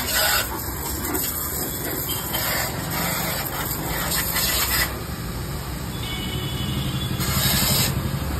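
A Brali 250 bar pressure washer running, a steady motor drone with hissing high-pressure spray that swells and eases in bursts, close and continuous, without speech over it.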